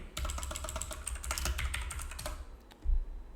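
Close, rapid clicking of a computer keyboard as a command is typed, in a fast uneven patter that pauses briefly before a final heavier keystroke.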